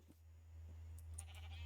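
Sheep in Minecraft give a few soft, distant bleats over a steady low hum of game background sound.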